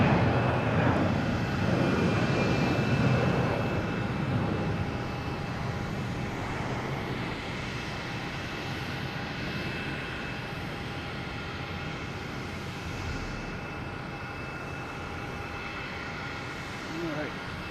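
A Delta Airbus A321 jet airliner at Boston Logan gives a broad engine roar that is loudest early and then eases to a steady rumble, with talking over it.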